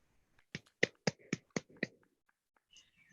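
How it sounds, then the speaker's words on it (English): Six sharp, evenly spaced hand claps ring out in a quiet room during an awards announcement at a Mandarin spelling bee, followed by near silence and a faint sound. "Let's clap for them."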